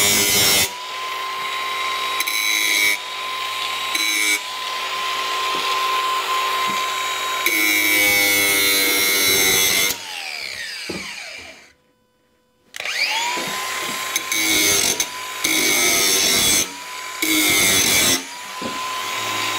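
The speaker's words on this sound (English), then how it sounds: "So let's get to filing and grinding." A power tool files and grinds the metal lips of a cut window opening in a Mercedes Sprinter van. The high whining, rasping bursts run several seconds each, broken by short pauses and one near-silent gap.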